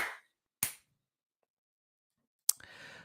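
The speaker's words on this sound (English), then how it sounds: "let's do this quick clap thing." Sharp single hand claps, with two crisp separated hits followed after a pause by a third, then a faint murmur of noise right after it.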